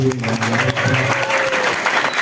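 Audience applause for performers of a Balinese prembon dance-drama at a village temple, broad clapping rising out of fading music and continuing loudly, with some crowd voices mixed in.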